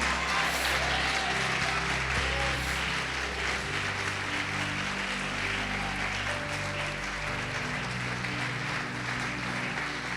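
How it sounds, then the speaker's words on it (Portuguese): A church congregation claps along during a Portuguese-language service, the steady applause blending with sustained organ or keyboard tones and background hum for about ten seconds. "Pode aplaudir, glorificar."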